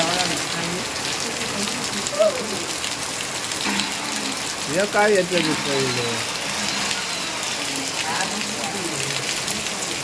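Heavy monsoon rain pours in a dense, steady hiss over an outdoor tiling work site, with voices talking briefly over it.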